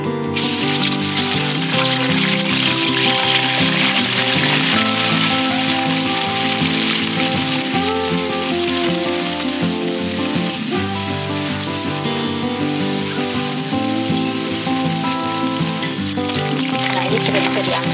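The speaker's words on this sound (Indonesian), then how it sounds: "Setelah minyak panas, masukkan cumi." Fresh squid fries in hot cooking oil in a wok for a sambal, a loud, dense, unbroken sizzle and crackle heard up close for the full length, with light music in the background.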